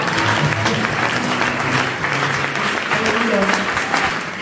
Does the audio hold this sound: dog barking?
no